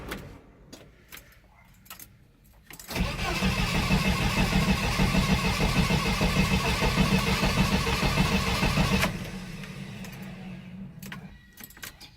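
A Jeep Comanche engine cranked after sitting for five months: a loud, steady mechanical churn runs for about six seconds, then cuts to a quieter background with faint clicks.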